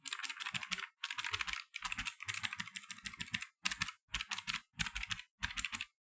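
Typing on a blue-switch mechanical gaming keyboard, bursts of crisp, clicky keystrokes in quick runs separated by short pauses, close and clear with no talking.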